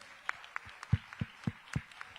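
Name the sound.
round of applause for the minister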